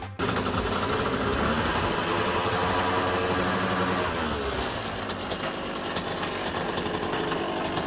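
A motorcycle engine idles close by, a loud, steady rumbling drone that holds continuously with a slight drop in level partway through.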